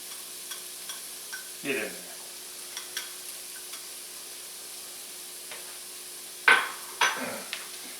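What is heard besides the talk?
stirring chopped carrots and yellow onion sizzling in pan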